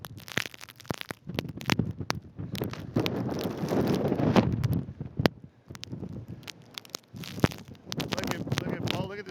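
Strong blizzard wind gusting along a snow-covered street, rough roaring buffets hitting the microphone in uneven surges, with crunching and crackling bursts mixed in and a voice speaking over it.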